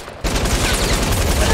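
LMG machine gun in Fortnite: Battle Royale fires a continuous, loud, rapid burst after a brief quiet start, with dense rattling shots and booming impacts as trees are shot down.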